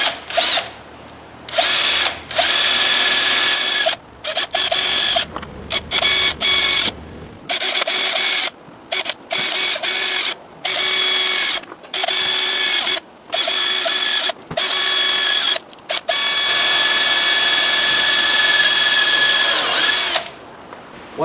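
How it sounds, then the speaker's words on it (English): A power drill bores 1/8 inch holes for a Zipwake boat installation in repeated loud, close bursts of high whining motor, broken by short pauses between pulls of the trigger. "Once I finished drilling the 1/8 holes, I went over it with the 13/64"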